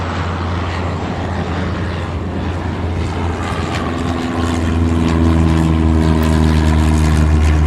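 A propeller airplane takes off in the game Airport Madness, a loud, steady engine drone that builds in power and holds strong harmonic tones, with no talk.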